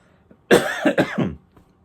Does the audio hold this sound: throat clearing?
yes